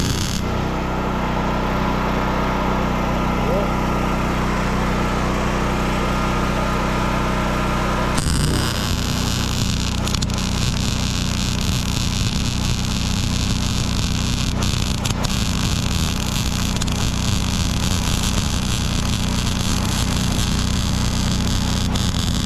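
MIG-style welding on the shock mounts of a Subaru Brat, a steady loud crackling buzz that runs continuously and shifts in character partway through, with no talking.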